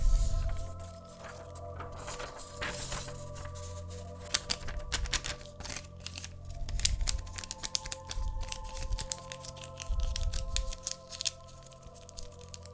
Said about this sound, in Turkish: Daha sonra tılsımı dışa doğru katlayın.